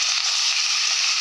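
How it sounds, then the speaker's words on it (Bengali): Chicken pieces fry in a hot pan with garam masala and bay leaves, giving a steady, dense sizzle that stays loud and even throughout with no voices. "ভালো করে চিকেনগুলো ভেজে নেবো।"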